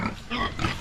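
A piglet on a farm squeals and grunts in a few short, strained bursts close by, the cries rising and falling over less than a second with no talking.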